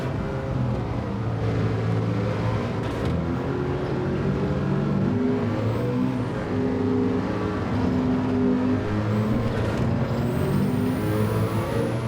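Race car engine in Gran Turismo 7 at Spa, pulling hard uphill under throttle, a steady loud droning roar with rising harmonic tones throughout, no talk.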